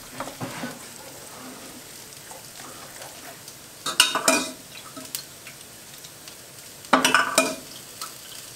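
Risotto simmers in a pan as it absorbs broth, a faint steady bubbling broken by two louder bursts of stirring and utensil clatter against the pan.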